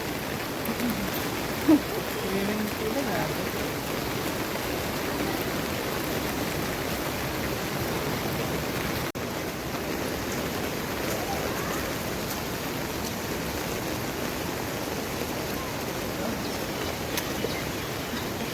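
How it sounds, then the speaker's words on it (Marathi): Heavy rain pours over a flooded housing society with a waterlogged play circle: a dense, steady hiss of falling water that stays loud and unbroken throughout, with no voices. "खूप जास्त पाऊस पडलेला आहे"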